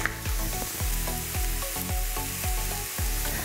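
Okra sweating in olive oil in a pan gives a steady, close sizzle, with a stirring scrape and clatter recurring every half second or so throughout, and no talking.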